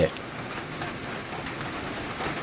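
Steady rain falls in a dense, even hiss throughout, heard at night in a riverside setting by the Mekong, with no distinct drops standing out.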